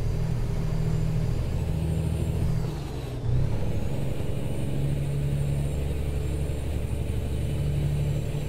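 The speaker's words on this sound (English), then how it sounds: "It's in the gear, but it still grinds." A truck's gearbox grinds in American Truck Simulator while a heavy engine rumbles steadily and loudly; the pitch shifts briefly about midway, with no talk over it.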